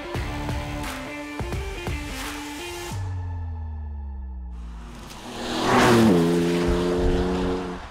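BMW M4 engine on the Folembray race circuit, revving and shifting up through the gears, dropping in pitch on a lift, then surging loud again as it accelerates close by.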